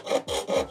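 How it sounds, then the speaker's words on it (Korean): A jeweler's saw in a metal saw frame cuts through metal in quick, even strokes, three rasping passes in under a second, close and fairly quiet. "이제 90도로 그냥 이렇게 편안하게 내려주면 앞으로 쓱쓱쓱쓱 갑니다"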